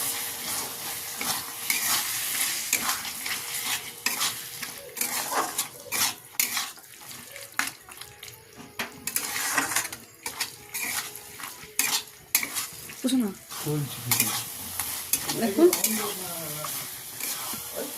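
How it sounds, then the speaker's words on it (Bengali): Green peas get stirred into spice masala in a pan for Bengali aloor dom, a loud sizzle with repeated rhythmic spatula scrapes and clinks against metal, close, with a brief squeaky scrape near the end. "যে মটরশুঁটিটা রেখেছিলাম আমি এর মধ্যে দিয়ে দিলাম। আবারও ভালো করে নাড়াচাড়া করে মিশিয়ে নেব।"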